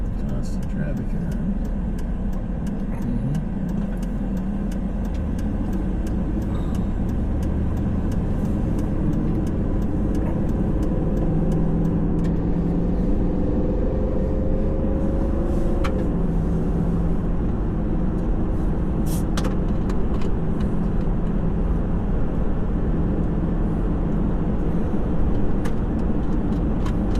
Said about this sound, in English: Constant traffic here.